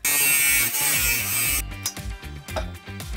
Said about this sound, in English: when we press a button, the fan will switch on, blowing the seeds out the bottom of the shoes